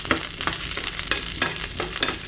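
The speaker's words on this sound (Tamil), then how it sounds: "இந்த ஸ்டேஜில் நம்மளோட சின்ன வெங்காயம் போட்டு நல்லா வதக்கிக்கலாம்" Small shallots sautéing in a pan with golden-brown peanuts give a steady, close sizzle broken by regular scraping stirs, with no talking.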